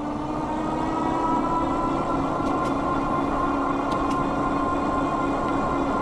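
G-Force ZM e-bike with a 750 watt Bafang hub motor at 48 volts climbing a hill, a steady close electric whine with a constant tonal hum and road noise, no talking.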